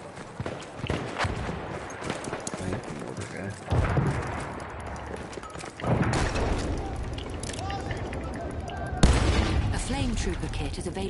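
Mortar shells land among the crackle of small-arms fire on a video game battlefield. Several heavy booms stand out over a dense, continuous rattle of combat, and players' voices talk throughout.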